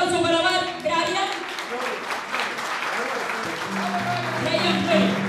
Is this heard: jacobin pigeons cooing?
no